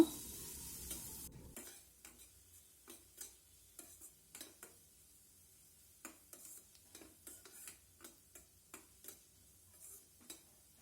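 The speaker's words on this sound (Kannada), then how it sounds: "ಈರುಳ್ಳಿ ಸ್ವಲ್ಪ ಹಸಿ ಹೋಗುವ ತನಕ ಇದನ್ನು ಫ್ರೈ ಮಾಡಿಕೊಳ್ಬೇಕು" Chopped onion fries with urad dal in oil for a Mangalore-style ridge gourd dish: a faint, low sizzle punctuated by regular soft taps and scrapes of a spatula.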